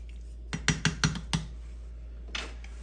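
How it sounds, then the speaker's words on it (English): A spoon gently stirring Tom Kha Gai, a Thai coconut chicken soup, in a pot: a quick run of five or six clinks and knocks against the metal, a pause, then a soft scrape, over a steady low hum. "Go ahead and give it a gentle stir."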